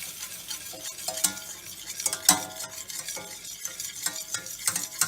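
Flour and butter being whisked into a roux for mac and cheese, with quick rhythmic scrapes and taps of a whisk against the pan over a faint sizzle, close and continuous.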